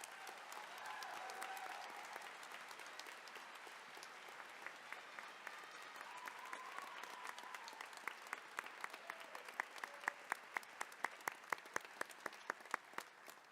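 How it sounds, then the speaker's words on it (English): A crowd at a nurse pinning ceremony applauds the LPN and RN graduating class of 2026. Soft, distant clapping builds into sharper, louder individual claps toward the end. "Let's give them a huge round of applause."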